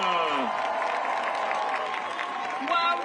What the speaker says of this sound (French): vos applaudissements pour notre artiste